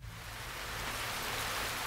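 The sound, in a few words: rain falling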